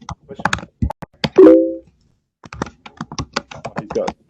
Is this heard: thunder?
no